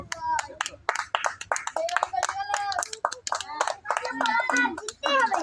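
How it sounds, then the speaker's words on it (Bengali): Children clap their hands during a game, a rapid uneven patter of many claps mixed with lively kids' voices and chatter throughout. "জোরে হাততালি দাও"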